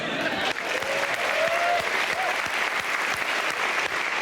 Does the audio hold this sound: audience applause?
yes